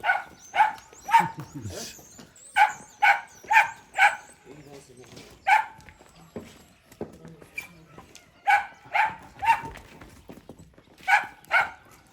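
Repeated dog barks in short bursts and clusters, fairly close, with quiet gaps between them.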